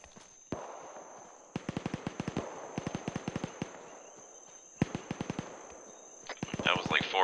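Rifle gunfire in ArmA 3 cracks out in several short bursts of sharp, fairly loud shots with a steady tone running underneath, and a burst of louder activity comes at the end.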